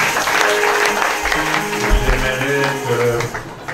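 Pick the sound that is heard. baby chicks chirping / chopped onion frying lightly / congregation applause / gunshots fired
congregation applause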